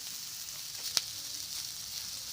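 Fish frying in leftover oil in a pan, a continuous bright sizzle at steady volume with one sharp pop partway through.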